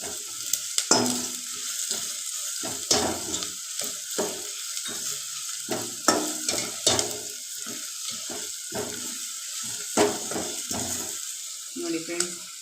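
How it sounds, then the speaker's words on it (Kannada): Two spoons of Chiru sambar masala powder stirred into a little water, giving repeated faint wet scraping and swishing strokes over a steady soft hiss, with no talk. "ಇದನ್ನು ಸ್ವಲ್ಪ ವಾಟರ್ ಹಾಕಿ ಇದನ್ನು ಕಲಿಸ್ಕೊಂಡ್ಬಿಡೋಣ ನೀರಲ್ಲಿ"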